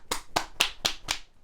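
Five sharp, evenly spaced slaps ring out as hands clap and tap on the body during acupressure work on the leg, each crisp and close with short gaps between.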